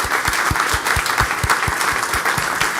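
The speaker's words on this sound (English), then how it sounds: "Let's give the mayor a round of applause" Applause for the mayor at a DeKalb County meeting: close, loud clapping from a modest audience, with heavy rhythmic thumps like steady beats under the general patter.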